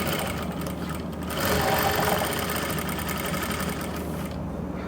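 Electric sewing machine stitching a seam on trousers with a front belt and elastic back, a steady fast motor whir with rapid needle chatter running continuously, close and fairly loud, swelling slightly in the middle.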